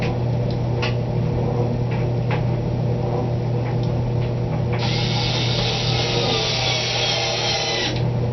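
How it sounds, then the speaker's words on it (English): A power drill drives screws into a wooden board while a soap mold box is built, with a loud steady whine near the end over a constant low hum and scattered handling clicks and knocks. "Let's hope I have enough power in my drill today."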